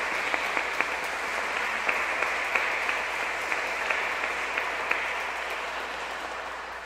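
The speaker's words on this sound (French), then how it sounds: "On peut les applaudir ici." A church congregation applauds the choir after a hymn at a Pentecost Sunday Mass, moderate steady clapping with a few sharper claps standing out, heard from within the hall.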